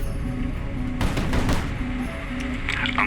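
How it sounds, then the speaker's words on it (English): Armor-piercing rounds fired from a warship in the naval combat game Highfleet, heard as a dense, sustained barrage of gunfire and booms over a steady engine-like hum, loud and continuous. "My main trump card enters the battle, a ship armed with armor-piercing rounds."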